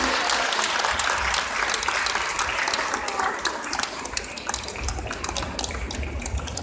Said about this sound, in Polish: Proszę o klaski, to może tak szybciej tort jedzie.